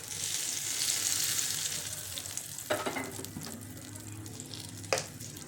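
Tadka tempering for tomato chutney sizzles steadily in hot oil, a loud continuous hiss with a couple of brief clinks or stirring knocks.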